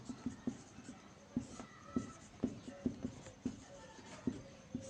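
Pen writing solutions by hand on paper, heard close and fairly quiet: steady scratchy strokes with regular taps as letters are formed, running under a faint background.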